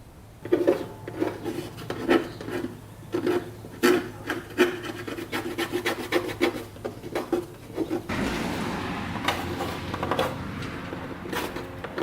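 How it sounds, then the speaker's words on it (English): Old plastic bodywork on a Yamaha YSR 50 minibike being worked with a plastic chipper tool: close, uneven rasping scrapes in quick bursts, followed by a steadier continuous grinding scrape near the end, with no speech. "we got this plastic chipper. We're going to go to work on these plastics, see if any comes off"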